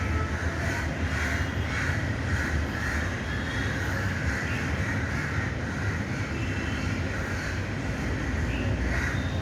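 Crows caw repeatedly during a fight with a monkey that broke their nest, over a steady broadband drone, rhythmic calls recurring against a constant background rumble.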